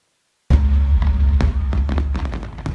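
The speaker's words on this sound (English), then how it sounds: "Liverpool's annual firework extravaganza could be under threat" Fireworks at Liverpool's River of Light celebration crackle and pop in a rapid string of sharp bursts over a deep rumble, loud and close-sounding.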